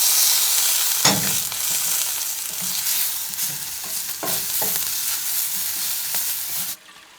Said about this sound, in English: Those fries are starting to get nice and crispy, turn a little golden brown.